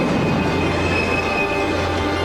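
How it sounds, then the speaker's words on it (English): A heavy train rumbles along the tracks, a loud, continuous roar with steady metallic tonal ringing from the wheels throughout. "More than 1 million pounds of steel bearing down on a school bus full of teenagers. The train kept going."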